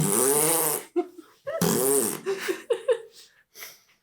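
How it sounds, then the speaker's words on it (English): Long, loud, buzzy fart, followed by shorter sputtering bursts, the sounds coming close and dry with quiet gaps between them and no other noise. "It's a ghost fart."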